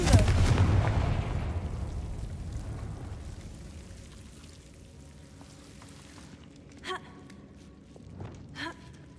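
The Confringo explosive spell in Hogwarts Legacy bursts loudly at the start and rumbles away into a long fading tail, followed by quieter ambient sounds with a couple of faint later clicks.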